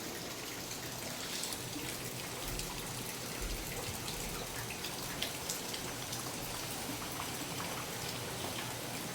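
Steady rain falling near waterfalls at a riverside temple site, a constant hiss of drops and splashing water filling the whole stretch with no pause and no voices.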